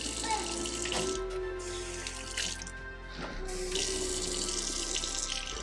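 Tap water running into a sink to fill a drink, a steady splashing stream at moderate level, briefly interrupted midway, with faint voices and household sounds in the background.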